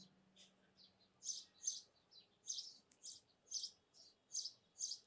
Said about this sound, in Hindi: चिड़िया की आवाज आ रही क्या?